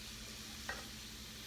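Onions and shallot stirred and poked in a hot frying pan, a steady soft sizzle with one brief scraping stir near the middle, close and alone with no talk.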